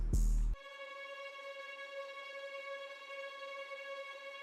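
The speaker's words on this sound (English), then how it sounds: "So next I added a tremolo string from BBC Symphony Orchestra," A tremolo string patch from the BBC Symphony Orchestra library holds one sustained note after a brief, louder burst at the start, ringing steadily and evenly to the end.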